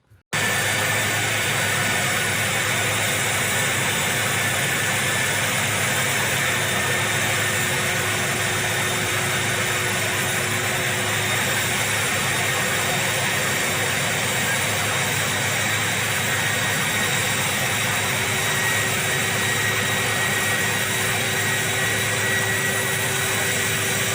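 Donald Trump's plane hums with a loud, unbroken engine drone after arriving, the steady roar holding level for over twenty seconds with no talk over it.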